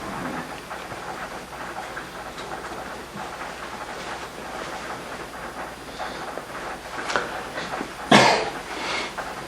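Steady rain pours throughout, with a louder splash or gust near the end; no voices.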